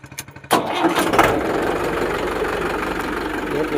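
A 2014 tractor with self-start fires up after a few short cranking pulses, then settles into a loud, close, steady rumbling idle with a knocking throb.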